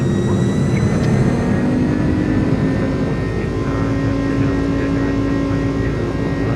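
Airliner jet engines spooling at takeoff power in Microsoft Flight Simulator, with a steady, loud, continuous roar and rumble that holds evenly throughout.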